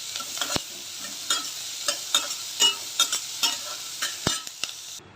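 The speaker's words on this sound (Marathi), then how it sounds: "आता थोडं कांदा लाल करून घेणार आहे कांदा आणि लसूण" Onion and garlic frying in oil in a wok for an egg gravy, a steady crackling sizzle broken by repeated scraping stirs and a couple of sharp spatula knocks against the pan.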